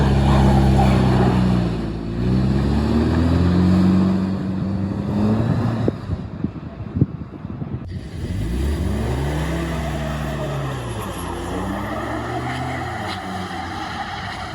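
UAZ Patriot with automatic transmission in rear-wheel drive on a slippery hill, its engine revving loudly in repeated rising and falling surges, with a rougher stretch midway and no talking.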